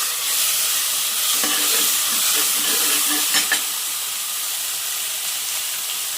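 Spices and lentils fry in a pan for sambar masala, giving a continuous soft sizzle and hiss with a few light stirring scrapes, close and steady throughout.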